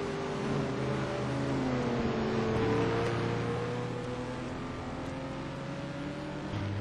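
Porsche, BMW and Corvette race cars battle at Anderstorp during an STC Black Cup round, their engines a loud, continuous roar with the pitch rising and falling as they accelerate and shift, with no talk.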